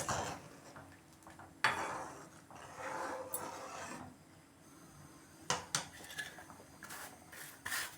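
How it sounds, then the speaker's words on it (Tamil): Roasted rava (semolina) poured into a kadai and stirred for rava kesari, heard as faint scraping and rubbing of a spoon against the metal pan, with a few sharper clinks and knocks at intervals. "அந்த ரவையை வந்து நாங்கள் என்ன பண்ணுறோம் பாருங்கள், அதே கடாயில் நாங்கள் கொட்டிட்டு மிக்ஸ் பண்ண போகிறோம்"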